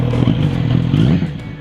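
A stock Kawasaki Z900RS four-cylinder motorcycle engine revs up close and loud, its smooth, continuous note climbing linearly and then easing off, with no voices over it.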